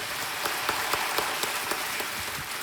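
Studio audience applause on the quiz show Kaun Banega Crorepati, a dense steady patter of many hands clapping, moderately loud and continuous, with no voices over it.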